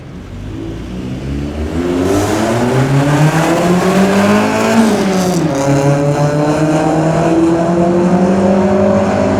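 A Honda CRX sports car's D16A9 engine revs hard and climbs in pitch, roaring loudly and steadily with a brief dip mid-way before surging again.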